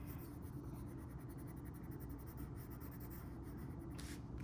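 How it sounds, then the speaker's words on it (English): A colored pencil shades leaves on paper with a steady, close, soft scratching rub that continues without pause. "I'm pressing a little bit harder on my colored pencil"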